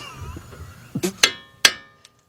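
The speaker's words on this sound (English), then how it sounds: "See, just chisel that thing right off." A hammer drives a chisel against the front strut of a 2008 Ford Fusion, giving three or four sharp metallic strikes in quick succession, close and ringing, with a light tap at the end.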